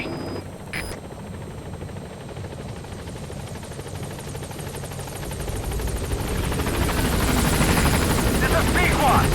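Helicopter arriving at a landing zone in the video game Metal Gear Solid V, its rotor and engine roar swelling steadily louder as it approaches, heard under a radio voice.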